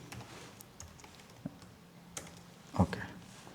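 Python code is typed on a computer keyboard: faint, sparse keystrokes at an irregular pace, ending in a slightly louder clack.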